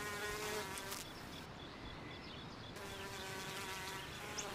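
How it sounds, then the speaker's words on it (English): A honeybee buzzes steadily and close while collecting nectar from a purple cuphea flower, a continuous droning hum with slight shifts in pitch as it moves about the blossom. "This honeybee is collecting nectar from a purple kufia flower."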